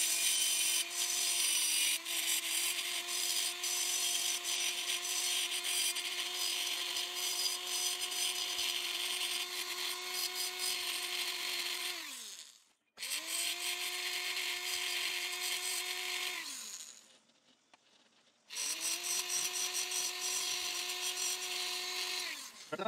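Rotary burr grinding the ports of an engine cylinder, a high whining grind in three bursts, each winding down, with brief gaps between them.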